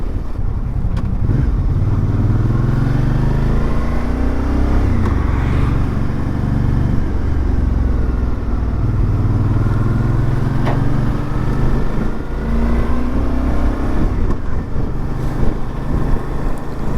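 A 2019 Suzuki V-Strom 650 motorcycle cruises along, its engine droning steadily with low rumble and gentle pitch shifts as it changes speed, mixed with wind noise, loud and continuous without speech.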